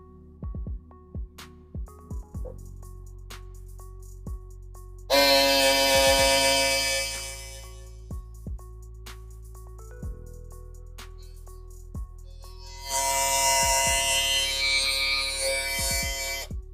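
A Lence Pro FF1S electric shaver switched on twice in short bursts, a loud close high-pitched buzzing whir, between quieter stretches with a steady faint tone and sharp clicks.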